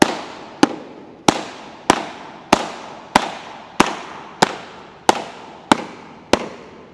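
Repeated sharp slaps of a hand or mallet on a thick catcher's mitt pocket being broken in to a game-ready hard surface, eleven loud evenly spaced smacks about every 0.6 seconds, each with a short decaying ring, no talk.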